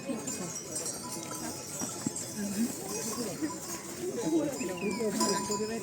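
Harnessed horses at a horse show in a mountain village clop softly and irregularly nearby, with faint jingling of tack, while people talk over them.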